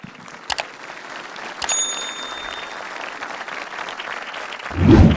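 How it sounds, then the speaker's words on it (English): Audience at a DXN Middle East 22nd anniversary celebration in Dubai, with a brief burst of clapping rising near the end after a quiet hall with a few isolated knocks and a faint tone. "May I request all of you to give a very big round of applause to Dr. Hassan Al-Khateri, Allah Arhama."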